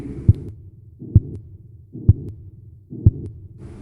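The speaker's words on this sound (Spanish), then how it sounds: "era el latido del corazón del viejo." An old man's heartbeat, four slow, regular double thumps about a second apart, deep and muffled, standing alone with no talk over them.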